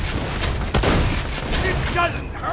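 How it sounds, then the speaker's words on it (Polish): Gunfire in the video game Borderlands 2, with bursts of shots and booms in a dense, noisy game mix, fairly loud and close, partly overlapping with talk. "Ja nie wiem, strzela coś dookoła."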